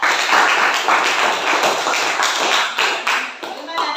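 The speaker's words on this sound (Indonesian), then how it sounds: "Tepuk tangan untuk kelompok 4." Students applaud a presenting group in a classroom, giving a close, loud, continuous round of clapping with some individual claps standing out, and voices mixed in underneath.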